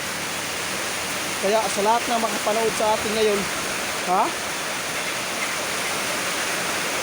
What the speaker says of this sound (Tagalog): Grabe guys, ulan.